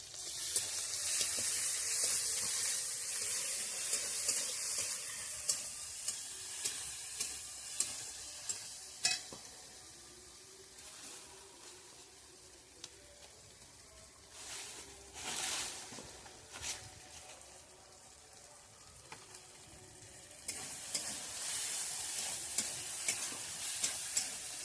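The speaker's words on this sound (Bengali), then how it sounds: "এবারে আদা রসুন পেস্টটা দিয়ে দেবো।" Ginger garlic paste fries and sizzles in a pan with fried onion and chilli, a soft, continuous hiss broken by repeated scraping stirs and occasional louder bursts of spattering.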